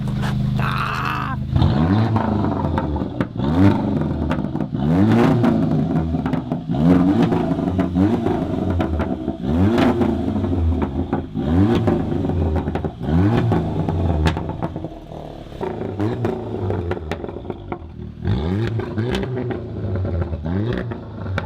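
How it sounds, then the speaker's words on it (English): A loud car engine with an open exhaust revs again and again in repeated rising bursts, its rough, throaty exhaust roaring close by with no talking. "You do some revving."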